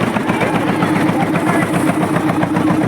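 A boat engine drones steadily on a tidal river in the Sundarbans, a loud, close, continuous mid-low chugging with a fast regular pulse and no talk over it.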